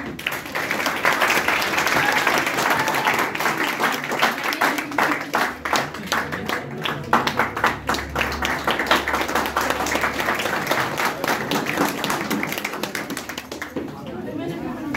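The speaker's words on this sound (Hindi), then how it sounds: "जोरदार तालियां हो जाए।" A large audience claps steadily and densely throughout at a student felicitation award ceremony honouring IBPS RRB final selections, with voices murmuring beneath the sustained applause.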